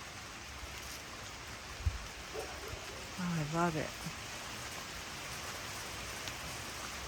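Steady early-morning rain falls in Ohio as a soft, continuous wash of noise, with a brief nearby voice speaking midway.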